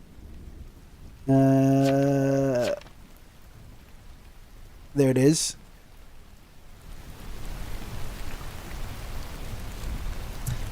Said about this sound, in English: Can we turn the rain up a bit?